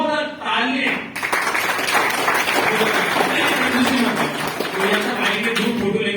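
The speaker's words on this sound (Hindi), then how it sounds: "हम सब ग्रुप बनेंगे और एक बार अपने लिए जोरदार तालियां" Loud, sustained applause from a meeting audience at a business development session, dense clapping filling the room after a brief voice at the start.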